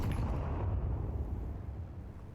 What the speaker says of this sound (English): Nice nade comes in from Stan.